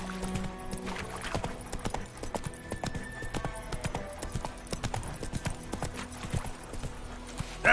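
Roach the horse's hooves clip-clopping in The Witcher video game, a brisk, steady trotting rhythm of hoof strikes heard close and alone, with a faint brief whinny.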